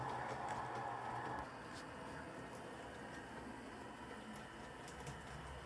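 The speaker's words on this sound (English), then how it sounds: "It's wheel slipping, but it's still going." A model train locomotive runs steadily on a newly built layout, its wheels slipping as it moves, giving a continuous close mechanical whir with faint clicking.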